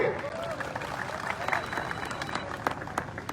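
A large crowd at a political rally in Punjab bursts into dense, sustained applause and clapping, loud and close throughout, with a voice speaking over it.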